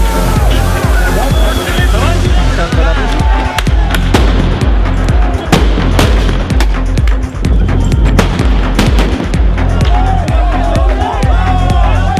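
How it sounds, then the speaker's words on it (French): Tear gas grenades and flashball rounds fired at a street protest in France, sharp loud bangs and pops scattered over a constant crowd roar with shouting, close and chaotic. "Mais la valse des grenades lacrymogènes et tirs de flashball"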